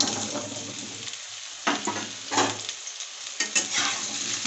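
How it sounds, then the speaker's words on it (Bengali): Mango pieces frying in hot mustard oil in a heated pan for a sour-spicy pickle, a steady close crackling sizzle with bursts of stirring scrapes and no voices. "তেলটা গরম হয়ে গিয়েছে, আমগুলো দিয়ে দেবো"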